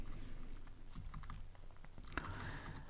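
Quiet, rapid keystrokes on a computer keyboard while a Python list is typed in, a soft continuous patter of clicks close by with no talking.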